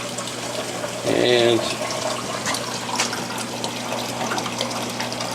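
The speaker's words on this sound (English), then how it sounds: "Sorry for the loud water flow," Water rushes loudly and steadily, a constant heavy flow with a brief voice over it near the start.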